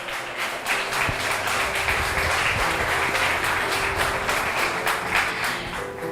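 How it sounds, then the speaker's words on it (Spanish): A church congregation claps loudly and steadily throughout, a dense, close wash of hands with musical tones faintly underneath. "Dele un fuerte aplauso al Señor."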